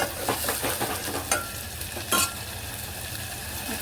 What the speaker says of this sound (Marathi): तेलावर हा छान परतून घ्यायचा मसाला